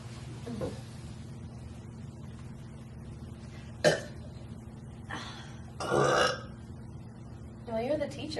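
Several short throaty burps and grunts spaced over a few seconds, the loudest around the middle, rough and moderately loud against a quiet room, with voice-like sounds mixed in.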